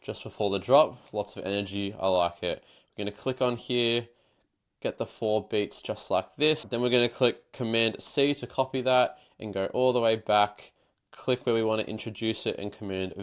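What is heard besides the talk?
No distinct noise like a dog, phone or traffic.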